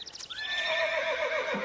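A single sharp horse whinny, high and shrill, rises quickly then holds and trails off, close and clear with nothing else around it.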